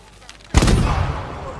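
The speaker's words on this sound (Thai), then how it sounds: "ถ้าเราใช้ธนูระเบิดใส่มันจะเป็นยังไง" A single sudden, heavy explosive blast from an explosive arrow in a video game cuts through the quiet and rumbles on, loud and close.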